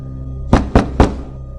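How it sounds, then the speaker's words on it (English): Three loud, heavy bangs on a classroom door, evenly spaced about a quarter second apart, close and alone with no talking. "I banged on the door."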